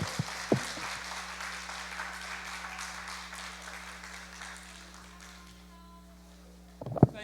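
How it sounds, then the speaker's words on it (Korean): Clapping from a church lecture audience, a broad wash of applause that gradually fades away, with a few sharp isolated claps near the start and a loud thud at the end over a steady hum. "하나님께 다시 한번 큰 박수로 감사 표시하겠습니다."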